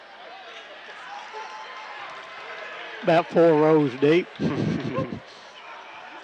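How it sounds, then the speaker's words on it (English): Crowd at a Wildcats versus Allen County basketball game applauding in a steady, broad wash of clapping and noise that runs throughout, with a commentator talking over the middle. "Crowd applauds."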